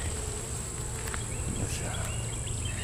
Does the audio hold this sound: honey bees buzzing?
yes